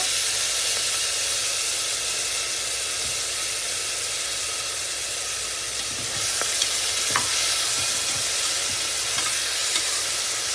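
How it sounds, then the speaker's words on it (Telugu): Tomato pieces hit hot oil with fried onions for moong dal khichdi, giving a steady loud sizzle and hissing steam, with brief scraping stirs toward the end and no talking. "ఇప్పుడు దీంట్లో నేను కోసి పెట్టుకున్న టమాటో పీసెస్ వేసుకుంటున్నాను"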